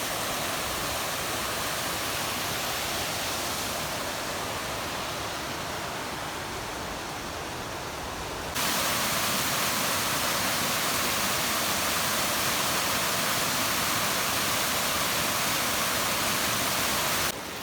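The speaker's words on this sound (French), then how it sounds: "agréable d'entendre le petit bruit de l'eau au fond" A small mountain stream flows near Pic Perdiguère in Haute-Garonne, making a steady, dense rushing hiss that fills the scene and grows slightly louder partway through.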